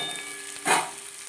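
Onions frying in a pan are stirred for a moment, a brief louder scrape-and-sizzle burst rising out of a steady soft frying hiss, with no talking.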